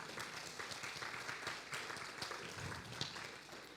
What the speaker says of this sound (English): So just give a round of applause for Keith.